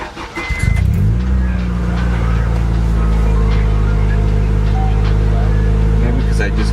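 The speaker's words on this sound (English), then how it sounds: "Cold starts on this car are pretty rough." An Acura Integra cranks through a rough cold start, with a suspected weak battery. A sputter catches into a loud, steady, low idle hum close to the microphone.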